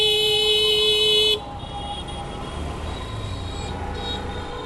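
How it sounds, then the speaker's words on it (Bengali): A vehicle horn blares loudly for about a second and a half in Dhaka street traffic near Palashi crossing, then cuts off to leave a steady hum of engines and road noise. "হর্ন দেয় কেন?"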